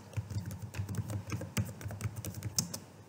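Rapid keystrokes on a computer keyboard while a prompt is typed into an Excel spreadsheet, a close, irregular patter of clicks with no talking.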